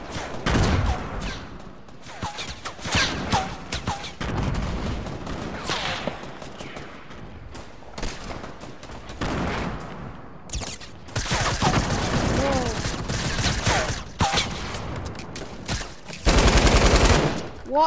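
Bursts of rapid automatic gunfire mixed with single shots, in loud clusters separated by short gaps, with a voice talking in between.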